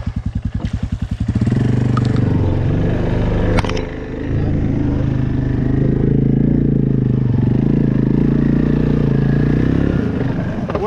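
Honda Fourtrax 300 ATV engine held at high revs while riding over rough ground, a loud, close, sustained droning roar after a few chugging pulses at the start, with occasional clatter.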